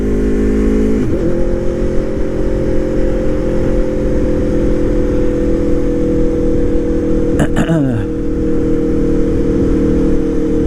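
An Aprilia motorcycle drones steadily while riding, its engine tone holding a constant mid-pitched roar with one brief shift in pitch near the start and a wavering change later, all mixed with continuous wind rush.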